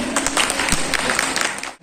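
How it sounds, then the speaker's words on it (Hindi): Short, dense clapping from an audience welcoming a guest at a 2023 retired teachers' honour ceremony in Kiratpur block, steady before fading out at the end. "तालियों से पीएसए सर का स्वागत कीजिए।"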